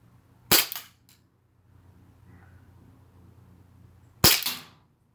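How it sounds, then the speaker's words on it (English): Two sharp airsoft gun shots during drone target practice, close and crisp, about four seconds apart. A faint background hum fills the gap between them. "Was that 4 or 5 shots?"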